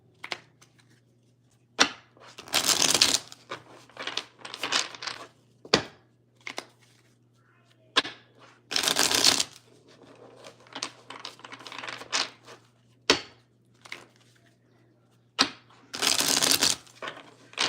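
A deck of relationship reading cards is shuffled close by in repeated riffling bursts, with sharp taps and snaps between them and quiet gaps.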